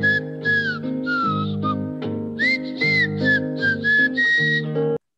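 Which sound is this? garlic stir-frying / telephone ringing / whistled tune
whistled tune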